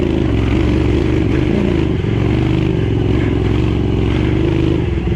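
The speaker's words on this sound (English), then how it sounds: "on a 1980 Honda CX500" A 1980 Honda CX500 motorcycle being ridden on a course, its engine a steady, loud, continuous drone with rough low rumble throughout and no talk.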